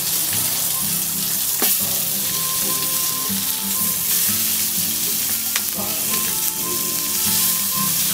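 Knox spice sausage sizzles loudly and steadily in a pan on a wood-fired StoveTec rocket stove. The frying crackles close by, with occasional scraping and stirring knocks as the meat is pressed.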